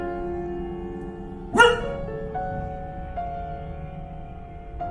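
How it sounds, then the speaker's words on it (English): A frightened, shaking dog gives a single sharp bark near the start, followed by lower, quieter growling and whimpering sounds, close by, with a faint background hum. "Frightened by something invisible, he was shaking and barking at nothing."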